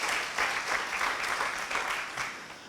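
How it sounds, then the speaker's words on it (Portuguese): Audience applause at a church sermon on making disciples, steady dense clapping for about three seconds with no voice over it. "Pode aplaudir a vida de Samuel aí"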